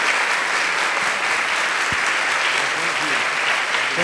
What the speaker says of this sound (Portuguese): Quiser aplaudir, gente, fique à vontade.